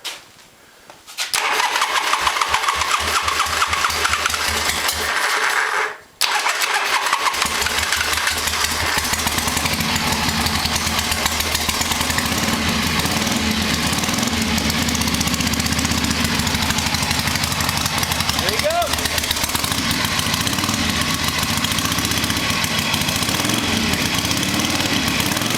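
A 1976 Harley-Davidson XLH motorcycle engine cranks briefly, falls quiet for a moment, then catches and settles into a loud, steady idle that runs on unbroken, close by with no talking.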